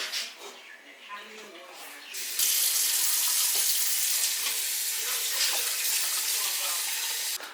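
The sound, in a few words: cold tap water poured over boiled sweet potatoes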